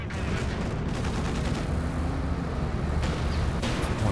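A bunker-busting artillery barrage in a Company of Heroes 2 match, a dense run of booming shell impacts and crackling gunfire rolling on continuously, with a sharper burst near the end.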